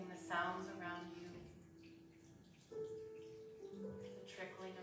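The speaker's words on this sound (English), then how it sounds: "The trickling of the water." Water trickles steadily in a quiet meditation setting, a soft continuous wash with a sustained voice-like tone running over it.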